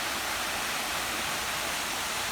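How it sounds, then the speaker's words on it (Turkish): Small waterfalls in the picnic area at Muradiye Waterfall, Van, produce a steady, even rush of falling water, broadband and continuous throughout with no voices. "mesire alanının iç kısımlarında da küçük küçük şelaleler bulunmaktadır"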